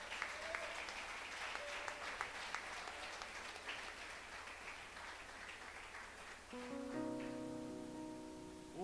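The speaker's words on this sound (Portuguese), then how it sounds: "Dê um aplauso ao Senhor por essa palavra." A church congregation applauds during a Portuguese-language worship service, a fairly soft, steady patter of clapping that gives way near the end to sustained organ or keyboard tones.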